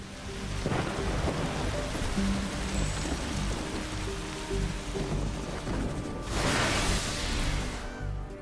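A video-game thunderstorm in The Riftbreaker, with steady heavy rain drumming on surfaces throughout. Low thunder rumbles beneath it, and a louder crack and roll comes near the end.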